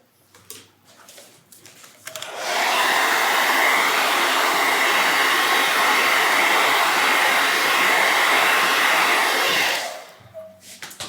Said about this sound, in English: I'm going to have to hit the blow dryer for a hot second